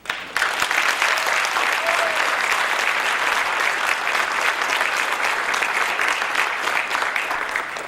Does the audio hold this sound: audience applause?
yes